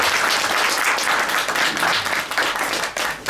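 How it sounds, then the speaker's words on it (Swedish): A press conference audience for a Volkswagen touring car racing team applauds as a team member is called up, a dense round of clapping that stays full before tapering slightly at the end. "Applåder."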